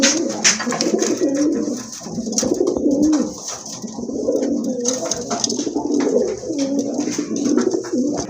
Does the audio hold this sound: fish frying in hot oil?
no